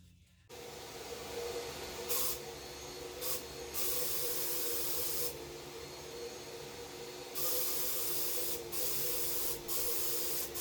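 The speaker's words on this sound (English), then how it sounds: "I'll then use a high-pressure air gun as a final way to rid the surface of any possible" A high-pressure air gun blasts dust off a Pioneer HPM-100 speaker cabinet during refinishing, a loud steady hiss of compressed air with several short bursts and pauses, up close.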